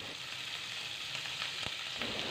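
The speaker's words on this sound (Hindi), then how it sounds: "अब हम दो से तीन मिनट तक मिर्च को भून लेते हैं" Green chillies sizzle in hot oil with asafoetida over a low flame, a steady, fairly quiet frying hiss with faint crackles and pops throughout.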